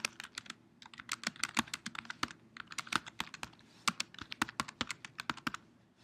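Rapid, irregular clatter of keys on a computer keyboard as a short summary is typed, close and fairly quiet, with bursts and brief pauses and no talking.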